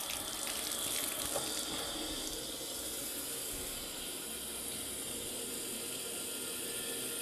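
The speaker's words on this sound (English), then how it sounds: "Now I want to check this seam. So using your hand shower," Hand shower spraying water onto the seam of a shower door, a steady hissing spray, louder at first and then settling into an even wash, close by with no talking.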